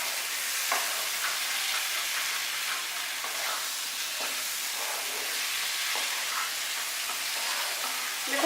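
Spice mixture for an elephant foot yam and shrimp curry is stirred in oil in a frying pan, with a steady close sizzle and occasional scraping strokes of the spoon and no talking.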